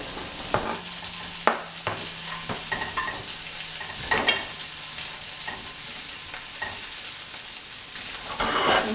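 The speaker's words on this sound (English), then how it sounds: "And now I'm adding the potatoes, and I want them to brown and be warm." Potatoes fry in oil in a pan for a Scandinavian hash, with steady close sizzling and crackling, broken by occasional scrapes and clanks of a utensil stirring against the pan.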